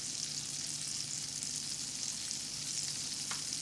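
Gnocchi pan-frying in butter on medium heat give a steady, dense sizzle that is close and even throughout, with no talking.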